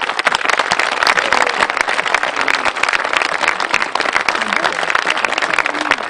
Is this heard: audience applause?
yes